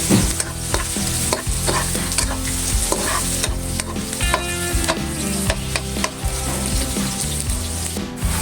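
Ginger sizzles in hot oil in a pan while a spatula scrapes and clacks against it in a steady stirring rhythm, loud and close with no talking.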